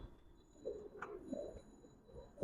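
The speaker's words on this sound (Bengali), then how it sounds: "এটা একটা মাদি কবুতর সবগুলো কবুতর অনেক সুন্দর" Giribaz pigeons in a loft coo softly, a few low throaty calls rising and falling against a quiet room, fairly close and faint.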